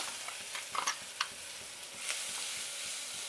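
Freshly ground coconut paste dropped into hot oil with mustard seeds and curry leaves, giving a quiet, continuous sizzle broken by a few light clinks and stirring sounds early on.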